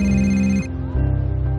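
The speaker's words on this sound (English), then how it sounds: "Noticed that my sister's phone kept ringing, but she would never answer it." Repeated ringing from a mobile phone at a park in Beaumont, Texas: a loud, close electronic ringtone cuts off partway and then starts up again, with no voices.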